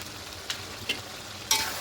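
Chicken curry with garam masala is stirred in a hot pan, soft sizzling under a few distinct scraping strokes of a spoon, the last one louder, close and with no talking.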